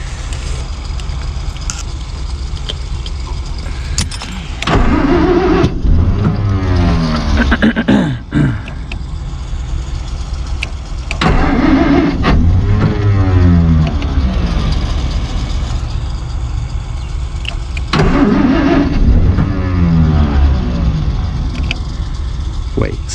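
A 1949 Plymouth Special Deluxe engine, parked for many years, cranks and runs with a loud, steady low rumble. A few surging bursts rise over the idle, and people talk over it.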